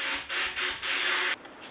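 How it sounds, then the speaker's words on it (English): Sandblaster blasting the back of a Stanley No. 10 rabbet plane lever cap, a loud hissing spray in four short bursts, the last one longest, then quiet. "I'm going to clean up the back side in the sandblaster."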